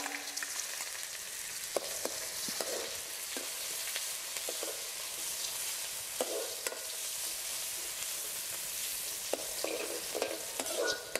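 Chopped onion sizzles steadily in a pan during a prawn and jackfruit curry preparation, with continuous close frying hiss and repeated scraping stirs of a spatula throughout, no voices.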